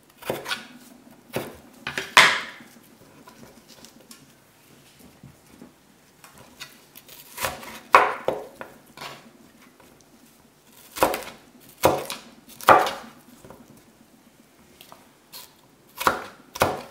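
A knife chops a yellow carrot on a cutting board in irregular bursts of crisp, close strikes with quiet pauses between them.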